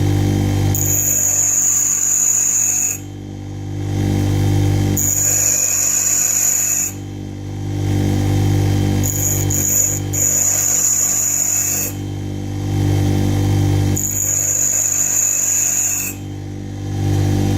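A bench grinder hums steadily up close while a drill bit is pressed to the wheel in four separate passes, reshaping it to cut brass, each adding a harsh, high grinding whine.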